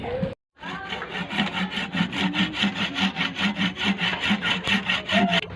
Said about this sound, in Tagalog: Gagamitin ko dito pang biyak ay lagari para pantay yung